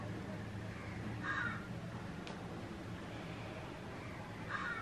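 A crow caws a few times outdoors, faint and far off, over a steady background hiss.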